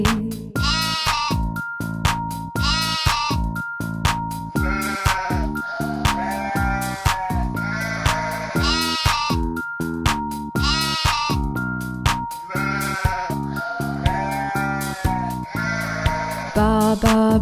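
Sheep bleats repeat in a steady rhythm through a bright children's nursery-rhyme music track about a black sheep, loud and close over the melody.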